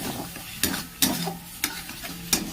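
Mango chutney stirred in a pan as sugar is mixed in, a low sizzle underneath with four distinct scraping strokes of the spoon spaced roughly every half second to second, close and moderately loud, no talking.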